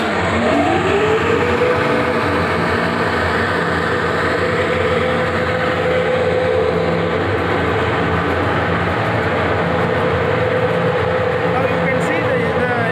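Belt-driven air blower running on a test rig, a loud steady mechanical whir and hum that rises in pitch at the start, then holds constant throughout.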